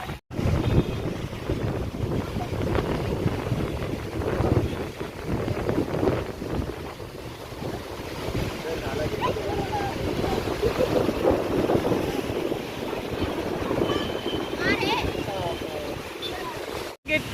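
Strong wind in a heavy Mumbai rainstorm roars continuously and buffets the microphone, a dense rushing noise that lasts throughout while someone talks over it.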